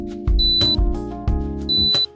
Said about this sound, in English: A long beep indicates a success.